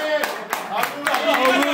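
A few people clap at a home birthday party for a boy, the scattered claps coming unevenly and mixed with overlapping chatter nearby.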